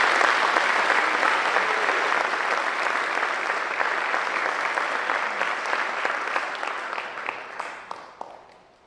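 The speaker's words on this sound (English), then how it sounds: "Please give these students a round of applause." An audience at a high school senior awards night applauds scholarship recipients with full, steady clapping that gradually thins and fades into scattered claps.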